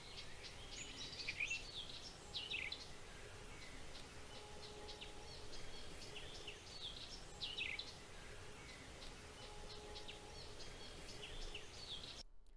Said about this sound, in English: So this is what the birds sound like.